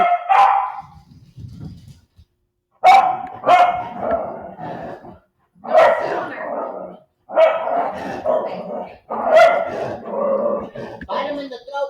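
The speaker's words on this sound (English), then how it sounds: "What is with the barking and the growling?" A dog barks and growls in repeated close, loud bursts indoors, with a person talking in between the outbursts.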